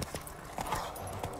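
Roach, the horse in The Witcher 3, clip-clops along at a steady trotting rhythm, hooves sounding moderately close over faint background ambience.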